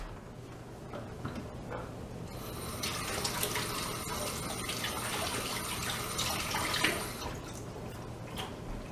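Tap water running into a kitchen sink while hands are washed during spaghetti sauce preparation, a steady hissing rush that picks up partway through and then eases, with faint clinks and ticks around it.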